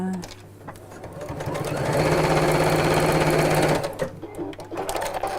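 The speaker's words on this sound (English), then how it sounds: "Lovely while you're chatting amongst yourselves as I'm sewing." A sewing machine runs close and steady, stitching contrasting thread onto gifts, starting up, holding a fast even whir for a couple of seconds and then stopping, with faint background chatter around it.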